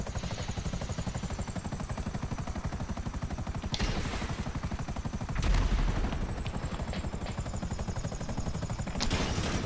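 Bursts of gunfire in the video game GTA 5 Online crackle out at a few moments over a steady, loud helicopter rotor drone, with no talking.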